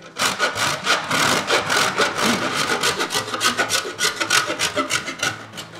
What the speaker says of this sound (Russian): Сейчас мне его нужно натереть на терке.